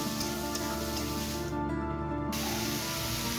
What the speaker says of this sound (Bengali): এবার এঁচোড়টা দিয়ে আরও 2 মিনিট আমি ভেজে নেব